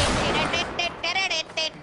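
Rapid bursts of gunfire in the Fortnite video game during a season 8 match, several short shots in a quick irregular sequence, fairly loud and close.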